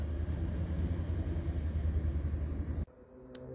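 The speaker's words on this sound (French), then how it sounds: "Ça, c'est une péniche de tourisme." A tourist barge's engine passing on the Rhône river drones in a steady low rumble continuously, then cuts off abruptly near the end, leaving quiet with a brief high tone.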